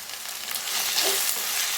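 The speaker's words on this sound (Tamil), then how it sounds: "வெங்காயம் தக்காளி நல்லா வதங்கி வரணும். வதங்கட்டும்." Onions and tomatoes sauté in a pan for a chicken sukka, giving a steady, close sizzle with faint stirring noises and no voices.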